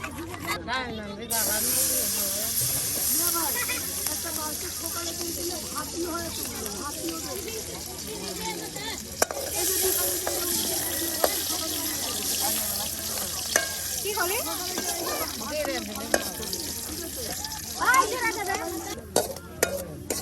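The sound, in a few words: garlic and cumin frying in oil for dal tempering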